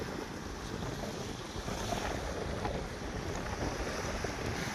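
Strong wind blows across the Rupnarayan river under cloudy skies, with choppy waves washing steadily in a continuous rushing roar and no voices.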